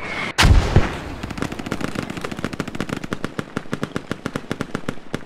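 Squad gunfire: one loud, close shot, then a long run of rapid, evenly spaced automatic bursts that carries on steadily to the end, with no talk over it.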